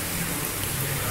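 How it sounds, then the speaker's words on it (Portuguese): Steady rain pours down outdoors, a dense, even hiss of drops with no pauses, loud and close with nothing else standing out. "chovendo novamente"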